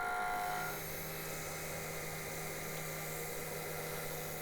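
A wood lathe turns a 20-inch wooden platter while a tool cuts a downturn on its outer rim, giving a continuous close scraping, hissing whir with a steady hum underneath and no voice.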